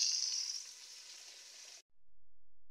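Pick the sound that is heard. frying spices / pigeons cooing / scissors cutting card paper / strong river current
frying spices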